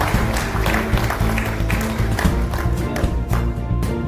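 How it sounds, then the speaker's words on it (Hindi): An audience at a district goldsmiths' association gathering in Uttar Pradesh claps loudly and continuously for several seconds to welcome a guest, a dense patter of many hands filling the room. "कृपया आप सभी लोगों का तालियों से स्वागत करें।"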